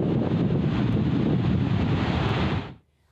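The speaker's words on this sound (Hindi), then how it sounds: "लसबेला के साहिल पर शोर मचाती लहरें किसी तूफान की आमद की इत्तला दे रही हैं" Roaring sea waves and wind on the Lasbela coast as a storm approaches: a dense, constant rumbling wash buffeting the microphone, then cutting off abruptly near the end.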